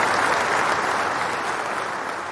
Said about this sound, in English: Let's give this girl a round of applause on that.